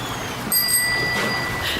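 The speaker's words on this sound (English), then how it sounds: "the bicycle bell rings again" A bicycle bell rings near a bridge, one bright metallic ring with a sustained shimmering tone that fades slowly over a steady outdoor hiss.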